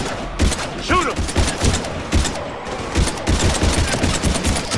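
Rapid gunfire in Mass Effect 3, loud bursts of automatic shots in uneven volleys mixed with shouted voices and combat noise.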